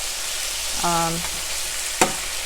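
Vegetables with jalapeno peppers sizzling in a pan, a steady close hiss with a short tonal beep partway through and a sharp clack near the end.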